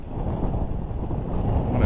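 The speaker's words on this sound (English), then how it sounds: "So pardon the wind," Wind buffets a microphone outdoors in deep snow near a castle wall, a steady, loud low rumble that fills the whole stretch with no speech.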